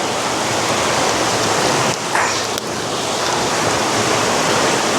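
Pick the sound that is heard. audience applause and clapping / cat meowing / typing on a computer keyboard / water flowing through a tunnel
water flowing through a tunnel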